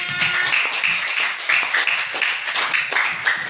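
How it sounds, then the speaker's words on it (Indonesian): Schoolchildren in a classroom clap for a pupil who answered a science question correctly, a lively, uneven patter of many small hands nearby, with a few sharper claps poking through. "Beri tepuk tangan"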